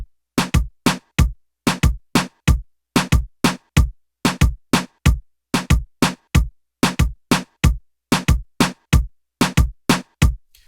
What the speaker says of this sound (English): I went ahead and added these drums from Zona Ritmo, and just the typical reggaeton style drums.